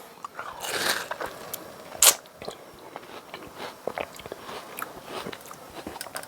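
Crisp bites and wet, crunchy chewing of a homegrown UK watermelon, slightly slushy in the middle, heard up close as irregular crunches with one sharp loud bite near the middle, no talking.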